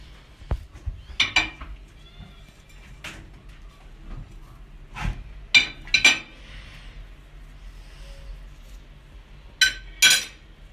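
Spice, sauce and salt for çiğ köfte are poured into a bowl in a home kitchen, heard as a few scattered clinks and soft taps of containers against the bowl amid quiet pauses.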